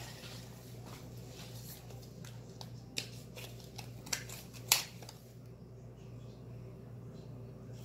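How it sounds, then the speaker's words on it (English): A gift package tied with a white ribbon and holding a card, fan mail from a father, is unwrapped and opened, giving soft paper rustling and crinkling with a few sharper crackles over a steady low hum. "the beautiful package I'm opening up"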